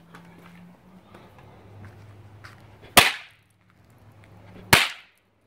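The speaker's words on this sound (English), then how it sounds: "And last here, we got these Aero Fireworks brand here." Aero Fireworks brand snap firecrackers burst twice, nearly two seconds apart, each a sharp, loud crack close by over faint background noise.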